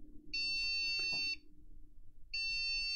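A Compaq CQ2 computer gives two long, loud electronic beep tones for a memory error, each about a second, separated by a pause, with a low hum running underneath.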